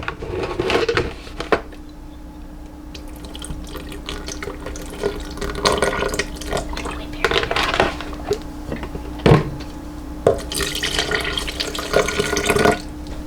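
Water for homemade mint chocolate chip ice cream base poured into a bowl, a close, busy splashing and trickling with small clinks and knocks, lasting throughout.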